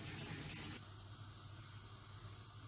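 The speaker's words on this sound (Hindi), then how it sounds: "सो ऐसे गर्म पानी डालना है" Hot water poured onto a spoonful of basil seeds while making sharbat, a steady gushing, splashing pour close up that eases slightly after the first moments and continues evenly throughout, with no talking.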